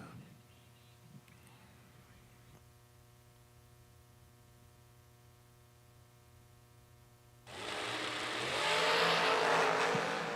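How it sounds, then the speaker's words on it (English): Drag race cars launch down the strip at a Thursday drag racing event; a steady low hum runs for several seconds before a loud, broad roar bursts in and holds to the end. "good old-fashioned drag race here"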